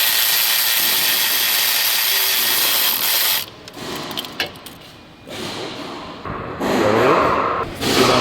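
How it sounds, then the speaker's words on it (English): An electric ratchet spins off a starter bolt on a Chevrolet Equinox, its loud, continuous whirring motor running for about three seconds, then falling to quieter clicks and handling noises before a second burst of whirring near the end. "then I'm gonna finish it up with my electric ratchet"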